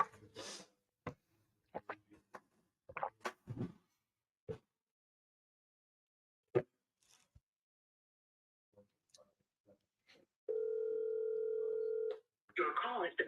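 An outgoing phone call on a commercial real estate cold-calling line, where a single steady ringback tone sounds clearly near the end after scattered clicks and quiet talk.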